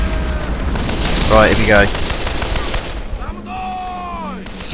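German mortars and machine guns firing in a World War II strategy game at Küstrin: rapid continuous gunfire and thuds under steady battle noise, with someone speaking briefly over it and a whistling streak near the end.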